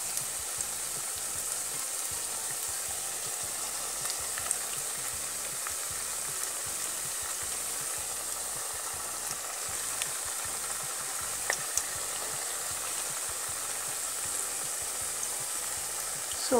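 Aloo tikki potato patties frying in hot oil in a pan, a continuous soft sizzle and crackle with occasional sharper pops, steady and close, no talking.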